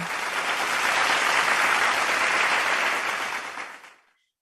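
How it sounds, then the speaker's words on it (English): A conference audience at an International Women's Day event claps in a dense, steady burst of applause for about four seconds before it tapers off into silence. "Give a big round of applause to all of them."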